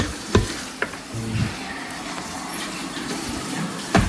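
Garlic sizzles steadily as it browns in a hot pot, with a few sharp clinks of a utensil against the pan, close by and without talk.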